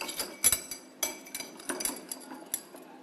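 Rusted iron nails are lifted from a glass of brown rusty water, with light scattered clinks and taps against the glass, a few sharper chinks among soft handling noise.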